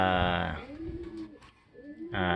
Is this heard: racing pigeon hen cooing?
yes